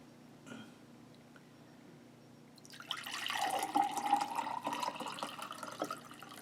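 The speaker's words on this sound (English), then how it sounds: "we'll go ahead and pour some of our sports drink" Sports drink from a Slovenian MRE ration pours into a container, a bubbling, splashing stream that starts after a short pause with a faint knock and runs steadily to the end, close and moderately loud.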